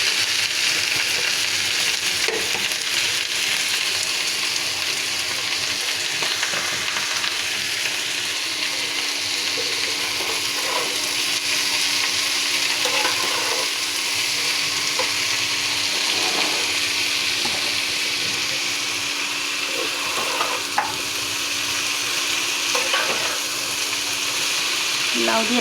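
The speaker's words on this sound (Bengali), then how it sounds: "এখন এই যে লাল শুকনোটা ভাজি বসিয়ে দেব" Vegetable bhaji of bottle gourd, potato and peel with onion, garlic and dried red chili sizzling in a pan, a steady close frying hiss with occasional stirring clinks.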